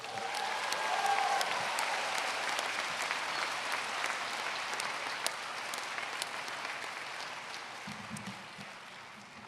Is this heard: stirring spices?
no